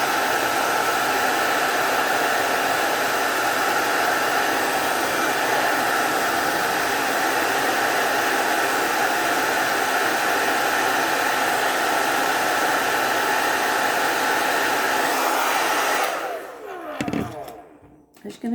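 Hair dryer on a cool setting blowing over a synthetic wig, a steady loud rushing whoosh held for about fifteen seconds before it cuts off, leaving a few soft handling knocks.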